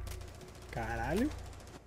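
Rapid automatic gunfire from a Rainbow Six Siege firefight plays as a steady string of quick, moderately loud shots, partly covered by a voice speaking in the middle.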